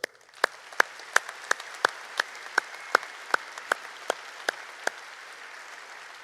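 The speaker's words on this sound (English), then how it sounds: "Big round of applause, sir." An audience applauds at a Naval Academy ceremony, producing a steady wash of clapping punctuated by sharp, evenly spaced claps.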